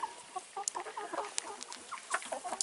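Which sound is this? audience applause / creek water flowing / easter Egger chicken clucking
easter Egger chicken clucking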